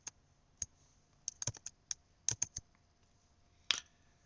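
Sparse keystrokes on a computer keyboard while typing code: a dozen or so crisp, close clicks in irregular bursts with short pauses, ending in one louder clack, no talking.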